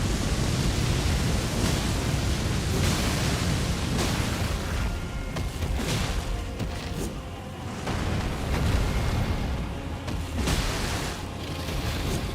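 Roaring fire breath from a boss in the Elden Ring video game, a loud sustained rushing blast that swells and dips over several seconds with no talk.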